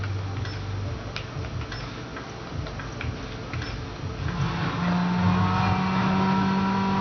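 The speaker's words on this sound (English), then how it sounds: "you hear that really low engine sound" A low car engine drones and rises in pitch toward the end in the racing video game Midnight Club LA, a steady loud rumble with faint ticking and no talk.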